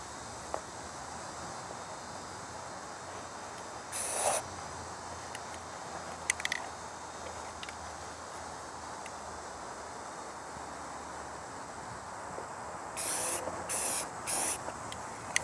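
Flat forest green spray paint is laid on a rifle in skinny strips: a few short, sharp aerosol hisses, one near the start and a quick cluster of three toward the end, over faint outdoor background hush.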